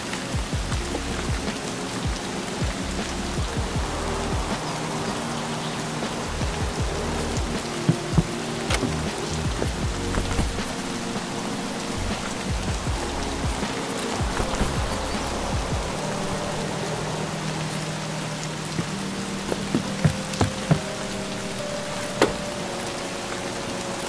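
Steady rain falls in the video game Escape from Tarkov, a dense continuous patter with scattered louder drops over low ambient hum and faint tonal game sounds.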